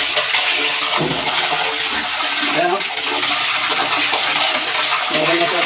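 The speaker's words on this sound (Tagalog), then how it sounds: "Meron na siya supply ng tubig." Strong, steady rush of water gushing from a newly installed motor pump supply line in a building, loud and close, with someone briefly speaking over it.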